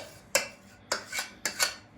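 A spoon scrapes cake filling out of a saucepan in a kitchen, making three to four short, close metallic scraping strokes spaced about half a second apart, with no talking.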